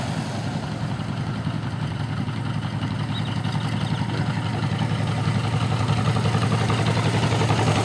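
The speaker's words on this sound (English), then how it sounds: "All these tractors look beautiful." Antique farm tractors, including a Farmall A, Ferguson, Allis Chalmers C and John Deere 730, idle steadily on a tractor ride, a loud, continuous low engine rumble with rhythmic putter throughout and no talking.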